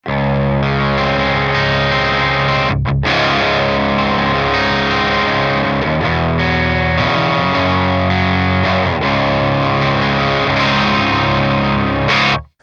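Sustained electric guitar chords with a warm, mellow, mildly overdriven tone through a 1x12 cabinet ring out continuously and loudly, with a brief break early on.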